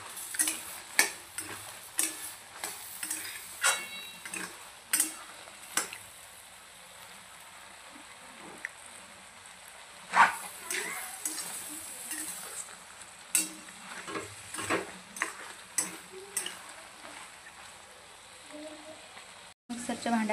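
Mutton boti curry bubbling on a full gas flame and stirred now and then, with a low steady sizzle broken by sharp scraping and tapping strokes of the spoon against the pot.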